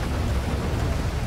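Steady heavy rain pours in Grand Theft Auto V with the LSPDFR police mod during a storm, a dense, unbroken hiss of drops with a low rumbling undertone filling the whole moment.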